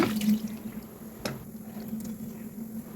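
Water drips and trickles as boiled tapioca drains in a kitchen strainer, with a wet splash at the start followed by softer intermittent drips close by and no talking.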